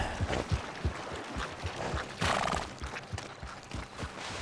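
Rapid rhythmic hoofbeats of galloping horses in Red Dead Redemption 2, with a loud whinny partway through, close and busy, a thick rumbling wash behind.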